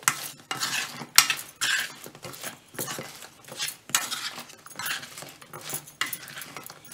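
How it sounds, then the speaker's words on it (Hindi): Sweet shakarpare stirred into sugar syrup in a pot, with bursts of scraping and clattering from a spoon against the metal pan, repeated in uneven strokes close by, no talking. "अब मैं ये शक्करपारे इसमें डाल रही हूँ और अच्छी तरह मिक्स कर देंगे"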